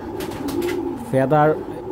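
A female racing pigeon gives a single short, throaty coo close by, rising briefly above someone talking steadily in Bengali.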